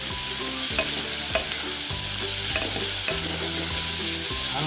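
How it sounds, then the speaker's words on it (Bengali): Potatoes fry in hot oil with shrimp, onion and chili, a loud, steady sizzle, while a utensil scrapes and stirs the pan in repeated strokes. "আলুটা একটু ভেজে নেবো"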